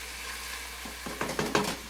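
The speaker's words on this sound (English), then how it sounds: "oh, listen to that sizzle" Rice goes into a hot pan, sizzling softly before a few sharp bursts of frying crackle as the grains land and are stirred, with no talk over it.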